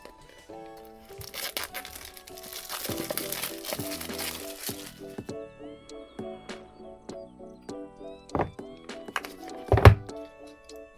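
Retail packaging for Blitzwolf ANC-3 earbuds is opened close up: crinkling plastic and cardboard rustle, then a run of small clicks and taps, with a few louder thunks near the end.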